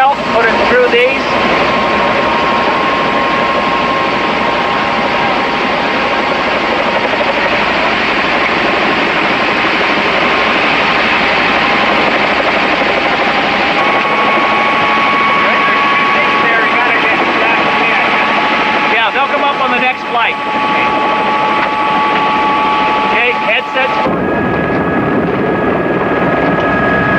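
A loud, constant helicopter drone with steady whine and rotor rumble fills the cabin on a flight up Protection Mountain, voices speaking over it, then the tone drops abruptly near the end.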